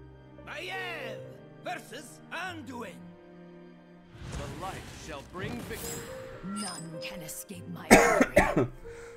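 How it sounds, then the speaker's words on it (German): A person coughs several times in rough bursts, with throat clearing and a harsher, louder cough near the end, mixed with some talking. "Ach, entschuldigt, mein blöder Husten."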